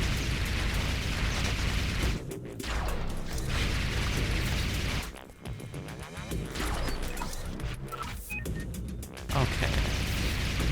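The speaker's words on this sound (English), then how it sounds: "I can hit them more with my AoE secondary fire from my assault rifle" Assault rifle secondary-fire area blasts in the game Sanctum burst repeatedly amid dense game music and mechanical noise, loud and continuous with brief drops, with a voice talking over them.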